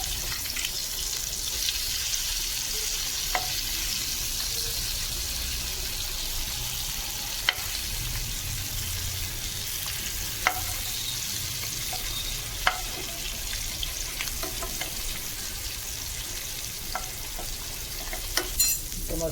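Stuffed bitter gourds fry in a pan, a moderate continuous sizzle with occasional sharp clicks and taps from turning them, steady and close throughout.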